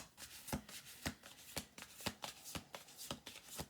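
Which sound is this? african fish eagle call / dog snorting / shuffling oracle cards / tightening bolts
shuffling oracle cards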